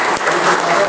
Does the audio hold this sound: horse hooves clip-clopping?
no